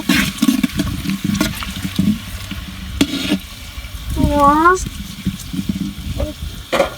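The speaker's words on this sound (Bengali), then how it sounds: "এখন পরিমাণ মতো পেঁয়াজ কুটি দিয়ে দিচ্ছি পেঁয়াজগুলো একটু নেড়ে চেড়ে হালকা বাদামি হওয়া পর্যন্ত অপেক্ষা করব" Chopped onions fry in soybean oil in a pan and get stirred, a close crackling sizzle with scraping stirs, while someone talks over much of it and a brief rising whistle-like tone cuts in.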